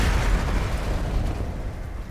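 Explosive shot from a mounted turret in Black Mesa, a loud, deep booming blast with a rolling low-end rumble that decays over about two seconds.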